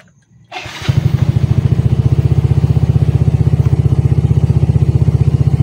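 A freshly overhauled Mio i 125 scooter engine starts up on a road test and settles into a loud, steady, close-up putter with a rapid even beat and no talking.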